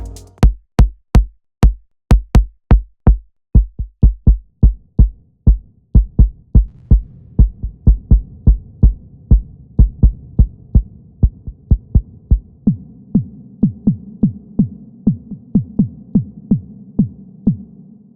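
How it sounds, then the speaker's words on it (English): Kick drum sample struck repeatedly in a steady rhythm, each hit a punchy low thump; later hits change character with different settings, some gaining a sustained low hum beneath them. "This is still the same kick,"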